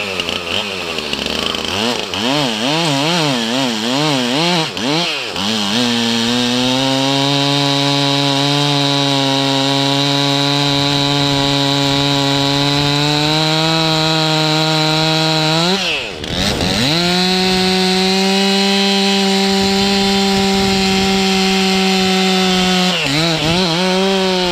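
A Stihl MS 362 chainsaw cuts through 24-inch oak, its engine loud and close with a steady high whine under load. The pitch revs and warbles at the start and dips briefly midway as the cut continues.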